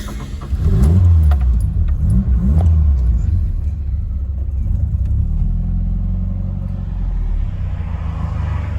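Close by, a Ford Capri engine turns over and fires, revs briefly, then settles into a steady, low idle rumble.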